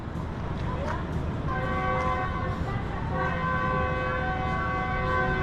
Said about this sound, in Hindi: तो ये ट्रेन ने हॉर्न दे दिया है